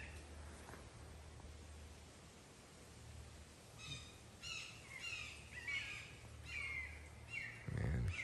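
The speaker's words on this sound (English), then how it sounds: "You can hear some hawks going off in the background." Hawks calling in the Everglades, a few faint distant cries and chirps repeating over quiet outdoor background noise.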